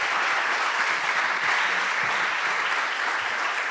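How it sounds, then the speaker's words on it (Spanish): An audience at an Academia Argentina de Turismo induction ceremony gives steady, dense applause that holds at full strength throughout, with no voices over it. "Le damos de nuevo un fuerte aplauso por la incorporación a la academia."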